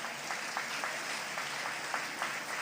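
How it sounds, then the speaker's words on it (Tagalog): A church congregation at a Sunday general worship service applauds, a steady, even patter of many hands sounding somewhat distant, with a few sharper claps standing out. "Pumapalakpak na ba kayo niyan?"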